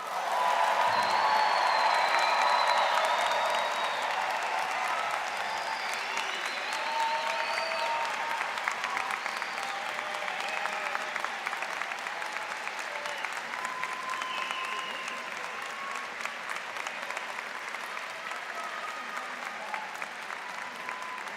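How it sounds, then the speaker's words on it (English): Sustained audience applause at a Mount Royal University spring convocation for the graduating class of 2024, Faculty of Business and Communication Studies; dense, steady clapping from a large crowd, loudest at the start and slowly easing, with a few whoops. "Let's have another round of applause for the outstanding class of 2024."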